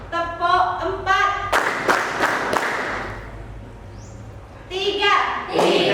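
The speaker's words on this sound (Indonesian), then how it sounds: "Tepuk 1. Tepuk 2. Tepuk 4." Schoolchildren in an Indonesian classroom clap in short bursts on a teacher's counted commands, with a couple of loud group claps and the teacher's voice speaking between them.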